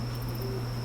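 Crickets chirp steadily in the video game Homebody, a constant high insect trill over a low ambient hum, with no voices.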